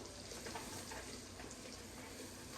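Flour cooks in melted butter for a roux in a pot of leftover soup, giving off a steady, even sizzle and crackle close up, with no talk over it.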